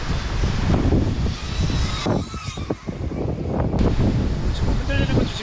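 Wind blowing outdoors during a DJI Avata 2 drone flight, a loud, continuous rushing buffet on the microphone that dips briefly midway before surging back.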